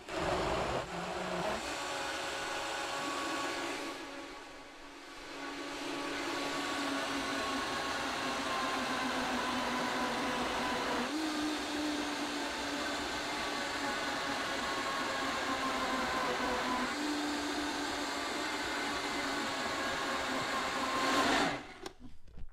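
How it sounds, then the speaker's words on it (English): Blender whirring while blending a sauce, a steady motor drone with a brief dip in pitch and load partway through, continuing loudly without talk before stopping at the end. "So you saw how I was only blending the bottom part, so I had to use this to push it down."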